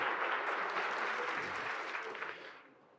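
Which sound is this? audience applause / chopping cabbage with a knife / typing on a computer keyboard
audience applause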